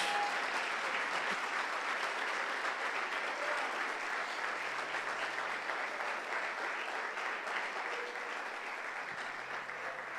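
Steady, sustained applause from a church congregation at an evening worship service fills the space evenly for about ten seconds, a dense wash of many hands with no talking on top.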